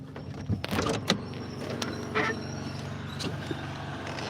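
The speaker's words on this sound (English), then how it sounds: "I knew I heard the door." A delivery truck's door slides and thuds shut outside, heard as a few sharp clunks and a brief mechanical rattle over steady engine rumble, fairly quiet and at a distance.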